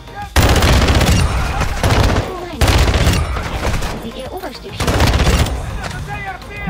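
Sustained bursts of automatic gunfire in the shooter game Warzone 2 DMZ, loud and dense, with brief pauses between volleys and a voice talking over them.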